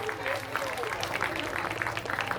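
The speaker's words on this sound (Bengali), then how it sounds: "জোরে একটু হাততালি ওনাদের জন্য" An audience applauds continuously for prize winners at an annual cultural day event, a dense crackle of many hands with a voice faintly underneath.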